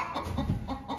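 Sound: chicken clucking

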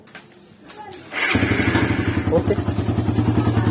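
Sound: motorcycle engine running after camshaft installation

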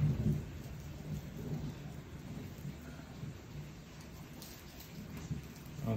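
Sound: rain

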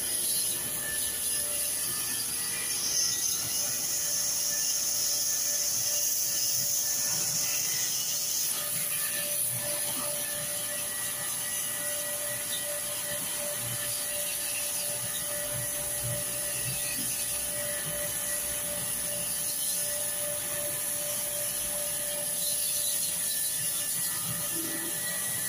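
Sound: pressure washer spraying water

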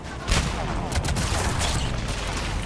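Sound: frag grenade explosion in Mass Effect 3 video game

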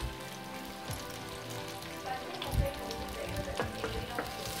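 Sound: curry leaves and green chillies frying in oil

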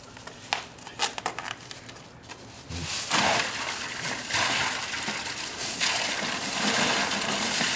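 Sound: bucket of ice water being dumped

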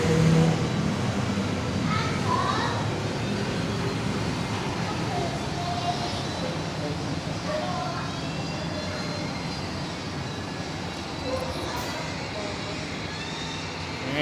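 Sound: road traffic in a traffic jam

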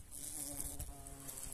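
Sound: large wasp buzzing

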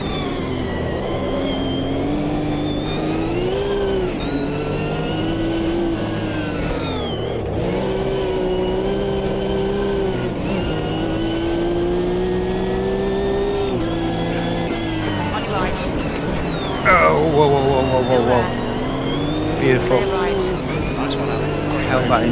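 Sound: race car engine revving in Automobilista 2 video game

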